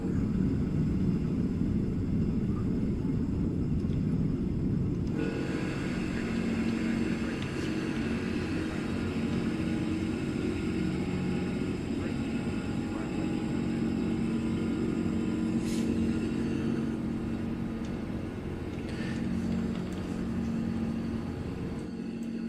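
Simulated airliner departure in Microsoft Flight Simulator, a continuous low rumbling engine roar that shifts character partway through and holds steady, no talking over it.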